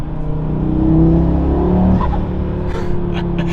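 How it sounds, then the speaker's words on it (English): A 2024 Audi RS3 engine with an MST intake drones on throttle, then a brief turbo whoosh and fluttering release as the throttle lifts, loud and close. "It sounds insane when you let off the throttle."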